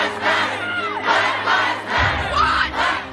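A crowd of protesters shouts and roars during a night riot outside a Minneapolis police precinct, with waves of loud chanting voices swelling and falling over a low rumble.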